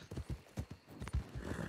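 A horse in a Wild West roleplay setting clip-clops along in a steady rhythm of hoofbeats, close and clear, with a brief whinny partway through.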